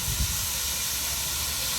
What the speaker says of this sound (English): 4555 Warrior on the Paignton Dartmouth Steam Railway